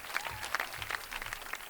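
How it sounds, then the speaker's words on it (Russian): Audience applause at an outdoor Russia Day record-setting event in Gorky Park, a brief burst of scattered clapping heard at moderate distance, with no talk over it. "Ваши аплодисменты!"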